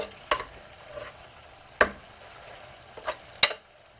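Tomato paste being stirred in a pan: a low, quiet sizzle with four distinct scraping strokes of the utensil against the pan, spaced about a second apart, close and without talking.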